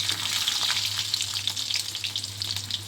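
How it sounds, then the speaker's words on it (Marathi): Garlic sizzles in hot oil with mustard seeds and cumin while it is stirred. A steady, close crackle runs throughout with soft scraping bursts and no voices. "लसूण थोडी ढवळून घ्यायची अशी"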